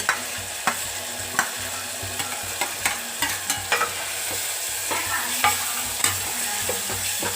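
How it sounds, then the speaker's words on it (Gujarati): Brinjal tumbled into a pan of fried chillies and stirred for a Gujarati ringan no olo, with steady scraping strokes and sharp clacks of the spoon against the pan over a low sizzle; no one talks. "હવે નાખી દે રીંગણા"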